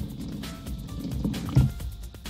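Peroxide poured into hot water in a plastic ice cream container, a short liquid splash and trickle heard close up with no talking.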